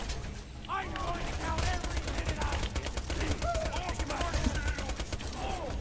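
Gunfire in the looter-shooter Borderlands 2, a dense, continuous stream of rapid shots and battle noise running the whole time, with people talking over it.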